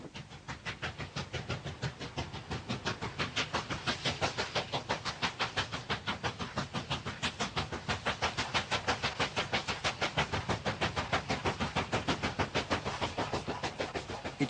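The Royal Scotsman, a luxury train of refurbished old carriages from the 1980s, runs on rails with a steady, rapid clickety-clack beating evenly throughout, with no voices over it.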